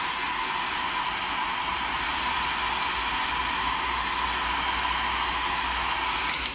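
A hair dryer blows continuously at close range, a steady whooshing hiss with a faint motor whine, running alone without speech.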